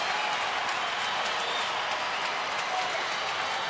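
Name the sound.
baseball crowd cheering at Astros game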